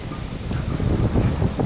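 Wind buffets the microphone while walking toward the beach at Miami Beach, Florida, as a continuous, gusty low rumble and rustle that swells slightly and carries no talk.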